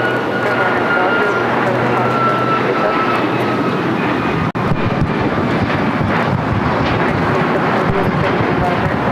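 An Alaska Airlines Boeing 737 MAX 9 bound for Newark takes off at LAX, a steady broadband jet roar buffeted by wind noise on the microphone, with a brief dropout midway and a voice talking over it.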